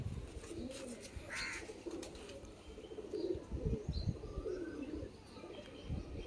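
Soft, low pigeon cooing repeats in short murmuring phrases against a faint outdoor background, with a brief chirp early on; no voices.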